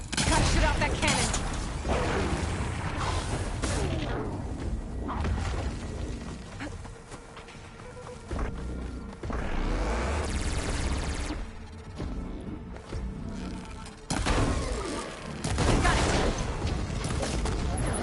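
Gunfire and booms from shooting at a machine's cannon in Horizon Forbidden West, with repeated bursts and impacts layered over game music and effects, and a voice talking at times.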